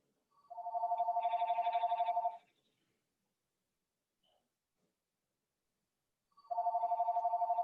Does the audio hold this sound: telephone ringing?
yes